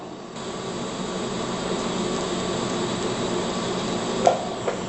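A TIG welder with high-frequency start laying a weld runs as a steady, continuous broadband hiss and buzz, close and even throughout, with a couple of brief crackling spikes near the end and no talking.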